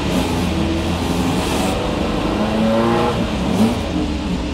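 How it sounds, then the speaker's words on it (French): The engine of a Rondeau M382 Group C race car runs at a historic race event, a loud, close, continuous rumble with rising revs and other engines droning around it. "C'est bon, déjà elle démarre cette rondo."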